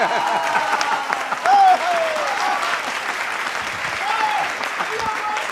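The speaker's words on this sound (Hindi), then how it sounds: "एक बार अच्छा लगा तो थोड़ी सी तालियां बजा दीजिए जी" A large audience at a comedy show claps steadily, a dense applause that holds throughout with a brief louder swell and a voice talking over it.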